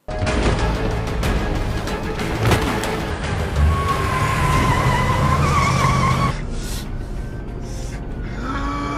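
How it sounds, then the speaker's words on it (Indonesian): Tires skid and squeal as a stolen ambulance speeds away during a film car chase, with a roaring engine, a long rising screech and a sudden drop in intensity near the end. "Simon juga berhasil merebut mobil ambulan milik petugas dengan Nathan yang masih berada di dalamnya."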